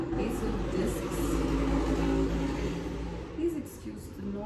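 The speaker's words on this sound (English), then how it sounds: "Please excuse the noise," Steady low traffic rumble from passing cars fills the background, continuous and fairly loud beneath a voice talking throughout.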